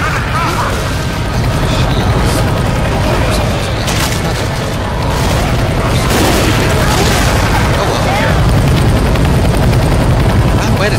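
A helicopter in Left 4 Dead 2 beats loudly and continuously, mixed with booms, gunfire bursts and mechanical clatter, with voices talking over the din.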